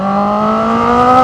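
A Honda CB650R big bike engine revs hard with a high-pitched, screaming tone. It is loud and close, and the pitch climbs steadily for just over a second.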